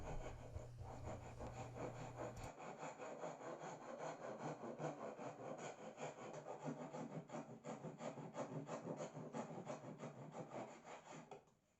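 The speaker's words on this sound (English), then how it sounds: "just time to reshape the channel and give it a final sand before dinner" Sandpaper rubs along the channel of a wooden guitar neck stand in quick back-and-forth strokes, a close, raspy scratching that keeps an even rhythm before stopping abruptly at the end.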